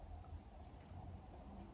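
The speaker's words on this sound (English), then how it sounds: "Oh, now it's raining now." Rain falls outside in a steady, faint wash of hiss and low rumble, heard alone from a distance with no talk.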